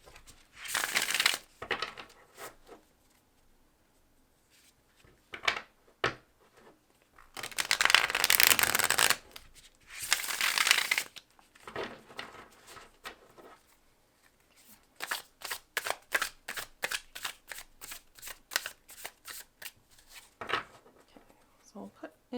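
A deck of tarot cards being shuffled by hand, with bursts of riffling and rapid flicking, the last stretch a quick run of crisp card snaps. Soft handling noises fill the gaps between bursts.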